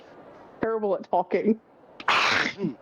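A single sharp sneeze bursts out near the end, loud and close, right after a stretch of casual speech from a person at a tabletop role-play session.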